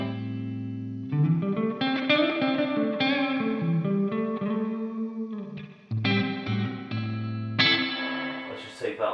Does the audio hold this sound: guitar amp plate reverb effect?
yes